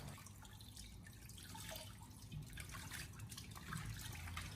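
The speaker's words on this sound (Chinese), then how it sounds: "我们将所有食材给它清洗干净以后，接着把它控水捞出来备用。" Soup ingredients for an old-chicken soup with five-finger hairy peach root being rinsed and drained in water, a steady close trickle and drip of running water with splashing throughout, no talking.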